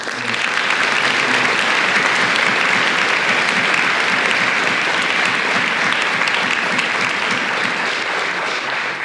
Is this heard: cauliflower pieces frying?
no